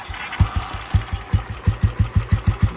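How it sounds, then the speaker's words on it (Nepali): A new motorcycle's engine runs after an electric self-start, chugging in a quick, even pulse of low thumps, close and fairly loud with no voices. "अहिले सेल्फ पनि मजाले चल्छ हेरे हुन्छ"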